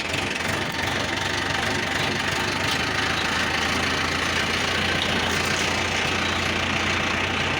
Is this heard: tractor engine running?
yes